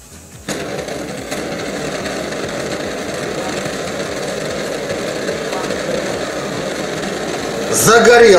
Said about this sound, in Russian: Говорят, что он сильно-сильно шумит. Типа говорят, как турбина работает.